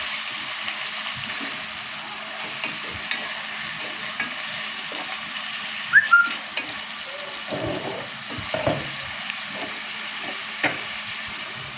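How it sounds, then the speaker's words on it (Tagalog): Ingredients for chicken sotanghon soup sauté in a pan with a steady sizzle, and a spoon scrapes and clatters against the pan now and then. "Gisa-gisahin lang natin siya."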